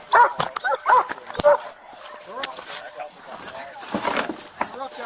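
A police dog barks repeatedly in sharp, loud bursts at a nighttime arrest scene near a snowbank, with officers shouting commands over the barking and a vehicle nearby.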